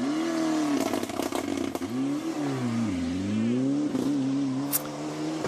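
A Ford rally car on a stage of the 2014 Rallye du Limousin brakes and then accelerates, its engine pitch dropping and rising through revs with some crackle, loud and continuous, with no voices.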